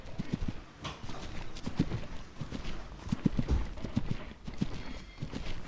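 A horse galloping at full speed during a jumping session, its rhythmic hoofbeats repeating in quick groups close by, with steady outdoor background noise and no talk.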